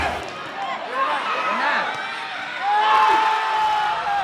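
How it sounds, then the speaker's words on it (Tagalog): Crowd cheering at the NCAA Season 100 Beach Volleyball Tournament championship in Subic Bay, a broad swell of whoops and shouts rising toward the end under a reporter's voice. "Uban sa cheering sa crowd"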